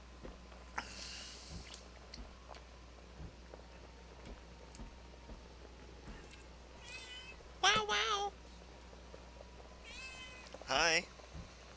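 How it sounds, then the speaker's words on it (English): A cat meows several times at close range, short calls with two louder, longer meows near the end, over a quiet room hum while a person speaks briefly. "Mr. Kitty Cat came to say hello."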